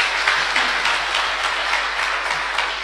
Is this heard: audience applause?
yes